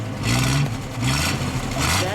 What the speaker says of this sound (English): let's get a little rev of the engine